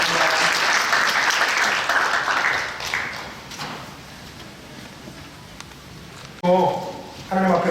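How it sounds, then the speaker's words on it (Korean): A church congregation in a Korean service claps loudly for about three seconds, then the applause thins out and fades into quiet room noise, with a brief voice near the end. "인사하실 때 다시 한번 박수 주시기 바랍니다."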